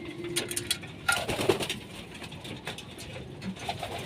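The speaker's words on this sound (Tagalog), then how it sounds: "Kalapati ni Camille, nandito" Pigeons cooing at a loft with banded racing birds landing, soft coos and a few bird calls over light clatter and outdoor noise, close by.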